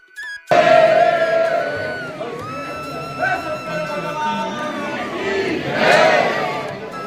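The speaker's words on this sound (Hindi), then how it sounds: "ये देखिए भीड़ कितनी है" A dense crowd of devotees at Trimbakeshwar Jyotirlinga temple roars in loud, sustained chanting and shouting that swells and recedes. It starts abruptly after a brief quiet moment and surges again near the end.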